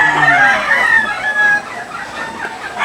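Chickens clucking and roosters crowing in a busy, loud chorus, several birds close by with overlapping calls throughout.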